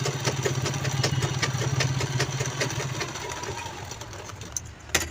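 A sewing machine runs steadily while stitching a purse, its fast rhythmic needle clatter loud and continuous for several seconds, slowing slightly near the end.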